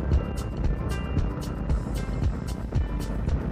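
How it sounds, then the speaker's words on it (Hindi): A motorbike engine runs steadily and loudly close by, with a dense rumbling drone and small surges throughout and no talking. "लिटरली हमको ये बाइक का आवाज बहुत पसंद है।"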